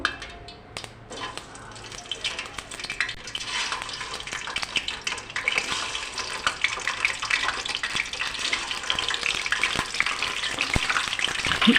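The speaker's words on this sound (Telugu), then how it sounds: "మన ఎగ్స్ అయితే ఫ్రై అయిపోయినాయి" Eggs fry in hot oil in a home kitchen, giving a continuous bright hiss and crackle that builds steadily over about twelve seconds, close and fairly loud, with a few sharp pops.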